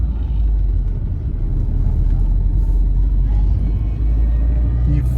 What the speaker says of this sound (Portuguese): Acelera a coisa do Uno aí.